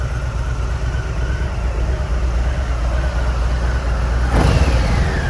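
A 2021 Harley-Davidson Street Bob 114 on a stock exhaust runs near and loud, holding a deep steady idle-like drone before a brief rev near the end swells the engine note.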